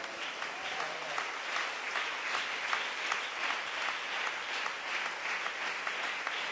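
A church congregation applauding, a steady dense wash of many hands clapping that holds throughout without a break.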